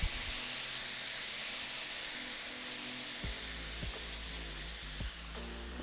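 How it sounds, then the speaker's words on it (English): Shrimp in a pan over very low heat sizzle softly with added soy sauce, a quiet steady steamy hiss with a few faint utensil knocks, no voices. "I'm gonna add some soy sauce"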